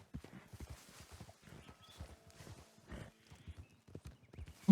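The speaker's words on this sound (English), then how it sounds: "Ooh, a white horse. Thoroughbred." A white Thoroughbred horse in Red Dead Redemption 2 clops along at a steady walking rhythm, its hooves close and clear, with a few brief squeals near the end.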